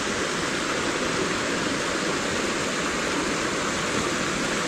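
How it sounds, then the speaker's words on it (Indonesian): A hot spring waterfall on a mountain roars in a steady, broadband rush of falling water, loud and unbroken throughout. "air panas, air terjun air panas"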